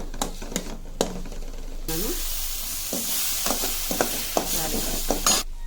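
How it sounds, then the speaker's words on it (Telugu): Coriander and curry leaves frying in a pan for a dondakaya thotakura roti pachadi: a loud crackling sizzle with repeated close spatula knocks and scrapes in a loose rhythm. "కొత్తిమీర, కరివేపాకు వేసానండి. కొంచెం వేగితే చాలు."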